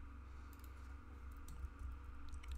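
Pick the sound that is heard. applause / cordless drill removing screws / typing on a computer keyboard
typing on a computer keyboard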